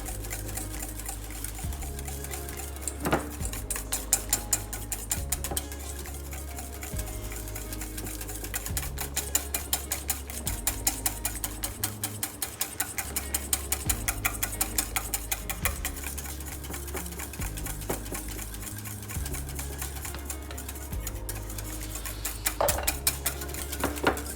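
Butter being whisked into hollandaise sauce over heat, with a fast, steady metallic clatter of the whisk against the bowl that runs continuously and evenly, with occasional louder knocks.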